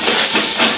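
Hilsa, prawn and bhola fish frying in oil in a wok, a steady loud sizzling hiss with no break and no voices.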